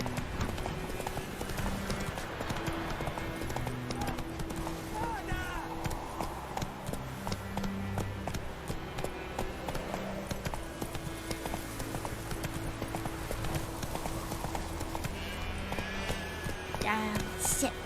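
The horse Roach's hooves clip-clopping at a brisk trot in The Witcher 3: Wild Hunt, a steady, close run of hoofbeats over other in-game sound, lasting throughout.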